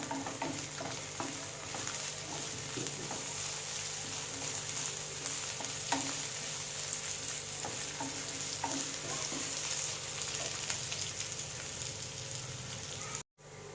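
Onions and curry leaves sautéing in a pan for a Kerala tomato drumstick curry, a constant soft sizzle with repeated scrapes and clinks of a spoon stirring, quiet and close, ending in a brief dropout.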